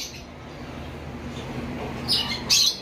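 Two quick high chirps from pet cockatiels and lovebirds near the end, following a stretch of low steady background hum.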